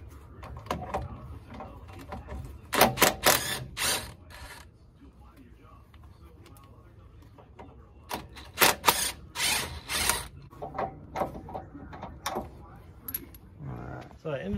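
A 12 mm wrench works loose the sway bar bushing bolts on an 80 Series Land Cruiser, with bursts of close metallic ratcheting and clinking between quieter pauses and brief talk.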